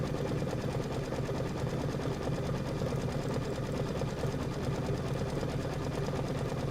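Embroidery sewing machine stitching out a Kimberbell Hello Sunshine applique block in a sewing shop, a steady rapid needle rhythm running continuously and loudly throughout.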